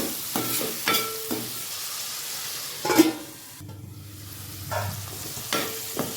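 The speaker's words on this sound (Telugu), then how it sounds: "చూడండి ఫ్రెండ్స్ ఆనియన్ కూడా ఫ్రై అయినాయి" Onions fry in a pan for a masala curry of ivy gourd, with salt added. The sizzle is steady and close, broken by a few distinct scrapes and clatters of a spoon stirring. No one speaks.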